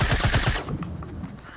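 Rapid bursts of gunfire from the Fortnite video game during a Battle Royale match, a dense rattling volley in the first half-second that then gives way to scattered fainter game sounds.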